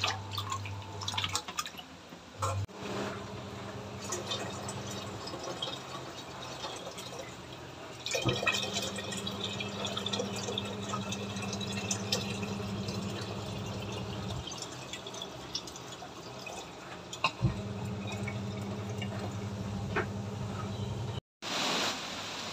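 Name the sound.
hot water poured onto tamarind for fish curry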